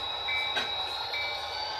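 A manifest freight train backs slowly onto a yard track, a steady low rumble of rolling cars with thin high wheel squeals drifting in and out and a short clunk midway.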